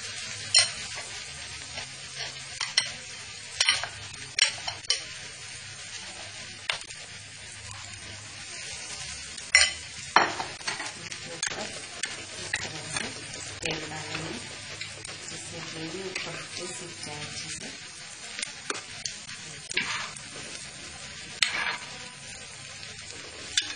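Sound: vada frying in oil in a kadhai

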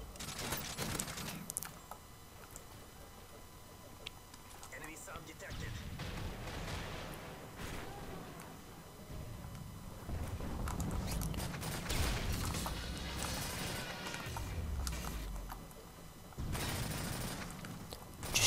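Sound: gunfire in video game Call of Duty Modern Warfare 3

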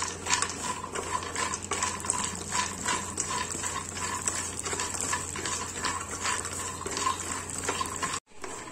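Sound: roasting makhana (fox nuts) in a pan

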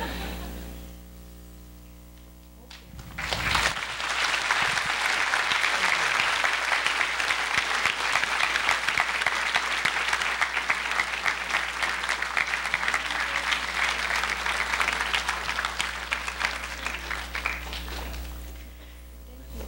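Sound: audience applause after presentation

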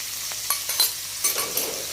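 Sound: stirring gram flour (besan) roasting with okra in pan

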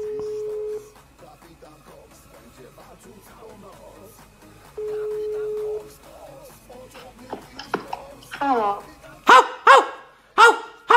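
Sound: man imitating a dog barking over the phone

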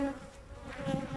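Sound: honey bees buzzing at a hive

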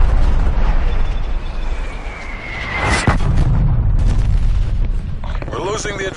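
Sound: artillery explosions in Call of Duty Cold War video game

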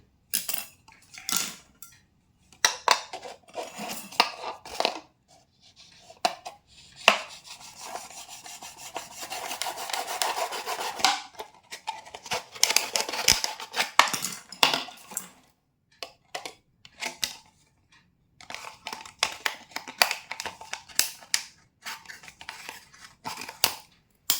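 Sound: cutting a plastic chocolate jar to make a crab trap

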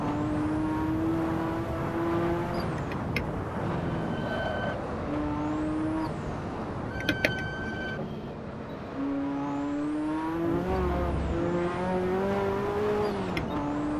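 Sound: racing car engine braking in Assetto Corsa video game

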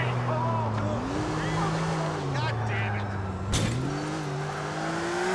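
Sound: car at full throttle in video game GTA IV

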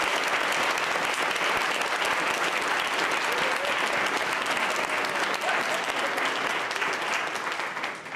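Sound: round of applause for spelling bee contestants

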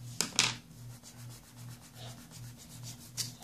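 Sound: pencil drawing being rubbed in and erased on paper

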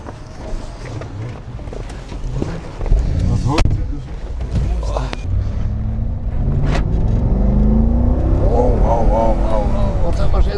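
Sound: Mercedes G-Class SUV driving

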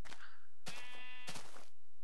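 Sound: sheep bleating in the video game Minecraft

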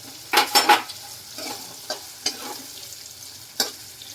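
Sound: stir-frying potato, carrot and cabbage for farali khichdi

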